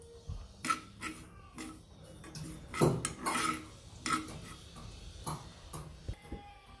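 Poppy seeds (khaskhas) dry-roasted without ghee in a kadhai over low gas for wheat laddoos. A spoon stirs and scrapes close by in irregular clinks and taps, with no talking.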